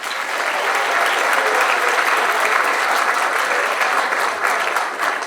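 Audience at the 2019 Kingston College graduation ceremony applauding graduates, a steady, dense wash of many hands clapping that holds evenly throughout without a break.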